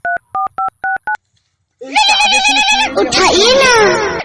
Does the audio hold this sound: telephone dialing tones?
yes